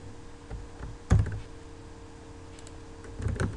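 Scattered keystrokes on a computer keyboard, with a sharp louder clack near the start and a quick cluster of taps at the end.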